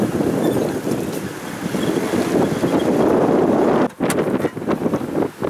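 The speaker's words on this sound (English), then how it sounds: "it's really, really windy today" Strong wind gusting at Lake Travis, roaring and buffeting the microphone in a loud, continuous rush with a brief lull near the end before the gusts return.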